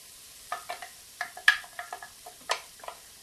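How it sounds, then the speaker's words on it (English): Vegetables sautéing in a hot Instant Pot give off crackly, intermittent sizzle pops and stir-like clicks, fairly close and moderate in level, with no talking. "I like to add vegetables to a hot plate when I'm sauteing, and you can hear them sizzle a little bit."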